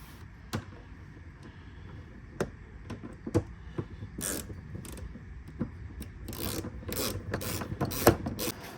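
A ratchet wrench tightens bolts on a front seat bracket in a Lexus GX470, giving irregular bursts of close, crisp clicking with short pauses and no talk.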